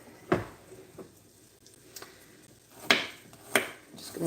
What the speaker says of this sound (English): The skins have already been removed, and we are on with chopping.